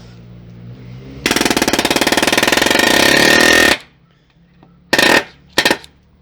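A cheap palm nailer drives a nail in a rapid, loud hammering burst of about two and a half seconds, followed by two short, sharp bursts after a brief pause.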